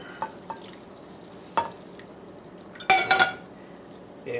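Turkey drippings hit a hot gravy pan with a thick roux, giving quiet sizzling and stirring, broken by a few sharp clinks and a louder burst of spattering near the end. No one talks.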